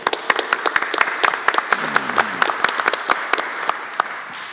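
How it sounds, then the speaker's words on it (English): A small audience at a legislative forum gives a round of applause for the sponsors, scattered sharp claps at an uneven rhythm, fairly close and thin rather than a roaring crowd. "could we just give them all a round of applause for sponsoring?"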